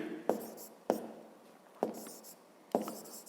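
Numbers written by hand on paper for a fifth-grade maths exercise, four short distinct pen strokes with soft scratching between them, close and quiet, no talk.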